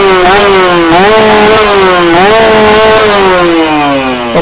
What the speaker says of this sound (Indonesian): Kita coba tes RPM.